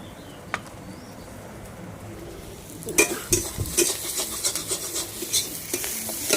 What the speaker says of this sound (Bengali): মাছটা এখন ভাজবো, মাছের ঝাল করব